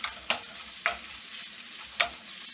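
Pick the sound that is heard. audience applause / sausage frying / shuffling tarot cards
sausage frying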